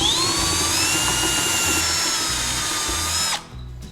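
A cordless power drill whines at high speed as it bores a hole during repair work on a RAD Charger, one steady sustained run that stops abruptly near the end.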